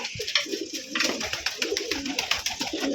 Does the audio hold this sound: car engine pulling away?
no